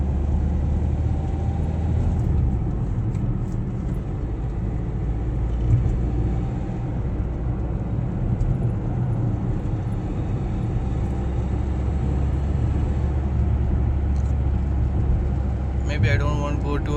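A 2011 Hyundai i20 diesel car accelerates hard, heard from inside the cabin as a steady, loud low engine and road rumble that lasts throughout, with a voice faintly present at times.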